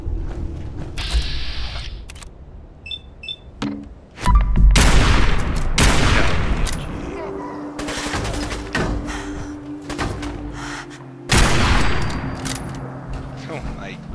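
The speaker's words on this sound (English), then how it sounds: "God, I love this gun." Gunfire in the video game Fallout 4, with loud bursts of shots, mechanical clicks and ratcheting weapon sounds, plus booming impacts in rapid succession over a busy game soundscape.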